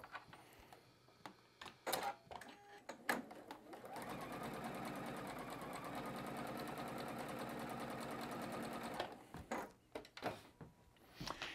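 A sewing machine stitches black fabric cornerstones onto a batik quilt block. Brief handling clicks come first, then about five seconds of steady, even motor whirring and needle chatter, then more handling noises at the end.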